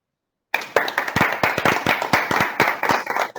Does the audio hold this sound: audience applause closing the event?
yes